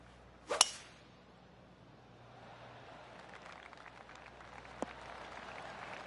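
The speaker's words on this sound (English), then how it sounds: "I can hear the golf claps around the course" Golf gallery spectators in PGA Tour 2K25 give light, scattered golf claps at Riviera Country Club; the sound is faint and distant, with a sharp louder crack near the start.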